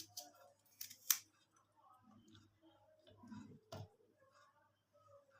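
Carrots being cut into pieces with a knife on a board, a few sharp crisp snaps and clicks spread irregularly, close but faint, with soft background noise and no talking.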